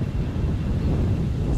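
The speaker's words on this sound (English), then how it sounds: "That's the wind." Strong wind buffeting outdoors at Edinburgh Airport, a continuous low rumbling roar with steady gusty pressure on the microphone, loud and close, with no voices.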